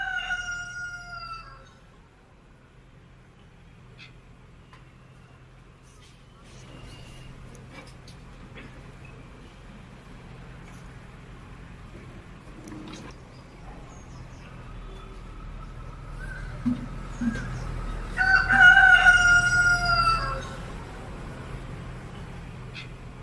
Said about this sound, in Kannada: ಯೂಶಲಿ ಈ ತರ ವಾತಾವರಣ ಹಳ್ಳಿ ಕಡೆ ಇರುತ್ತೆ ಕೋಳಿ ಕೂಗೋದು